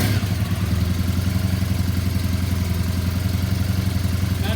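Triumph Bonneville motorcycle engine running at a steady, loud idle close by, with an even throbbing pulse and light mechanical clatter throughout.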